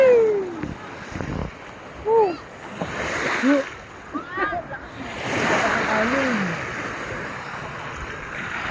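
Sea waves wash and splash along a beach in Botolan, Zambales, in rolling surges, with people talking and calling out over the surf.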